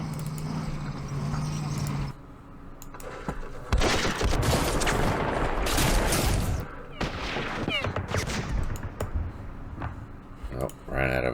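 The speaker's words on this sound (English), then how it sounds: "let's hit this again with our vast artillery assets" Artillery fire in the wargame Campaign Series Vietnam, a string of booming blasts and crackling gunfire bursts over several seconds, mixed with a steady rumble and clicks.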